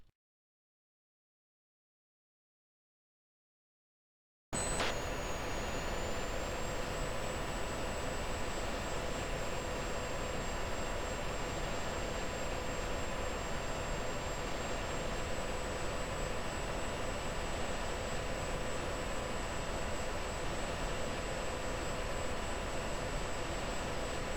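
A steady jet engine roar from the Falcon BMS flight simulator fills the scene as the aircraft approaches a tanker, loud and unbroken after a few seconds of silence, with a thin high whine running above it.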